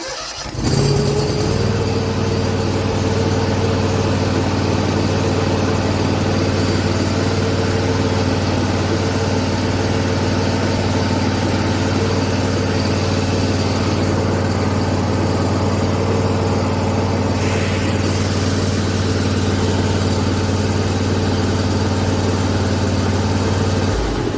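After starting on a little choke, an engine holds a loud, steady idle close by for over twenty seconds, a constant hum with no speech.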